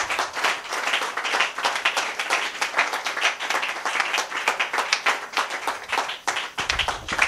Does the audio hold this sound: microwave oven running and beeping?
no